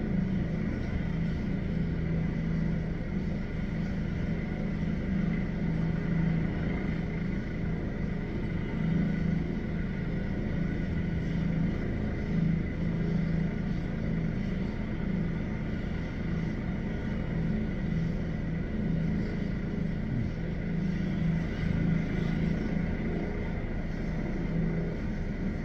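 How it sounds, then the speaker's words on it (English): A LifeFlight helicopter's engine runs at St Margaret's Hospital before takeoff, a steady, heavy low rumble and whine that holds constant at close range, with no talk over it. "You can hear the motor firing up harder, so getting ready to take off."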